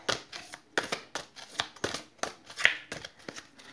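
Tarot cards are drawn and handled from a deck in a series of short, crisp snaps and shuffling rustles, close and fairly quiet, repeating at an irregular rhythm with no talk.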